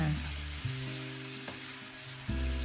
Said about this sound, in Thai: การที่เราผัดเนื้อหมูก่อนแบบนี้เราก็จะได้ ผัดให้เครื่องเทศที่เราใส่ลงไป หอมไปด้วยนะคะ